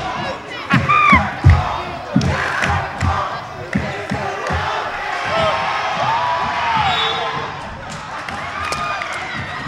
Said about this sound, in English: As the crowd gets loud.